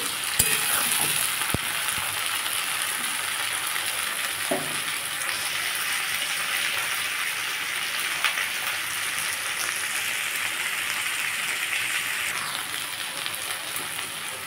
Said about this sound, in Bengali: বরবটিটা ভালো করে লাল করে ভেজে নেব।